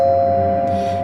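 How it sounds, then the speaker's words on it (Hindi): A doorbell rings at an apartment door in a Hindi radio drama, sounding as a steady, sustained electronic chime of clear tones for about a second with no voices over it. "तभी उसके दरवाजे की डोरबेल बजी।"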